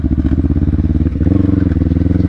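A Kawasaki Ninja 250 FI motorcycle engine idles loudly and steadily through an aftermarket Kawahara racing exhaust, with a deep rhythmic burble that lifts slightly in pitch partway through.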